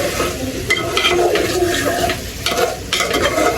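Pangas fish curry with eggplant and dried fish sautéing in a pan gives a constant crackling sizzle, broken by spatula strokes scraping the bottom in uneven bursts.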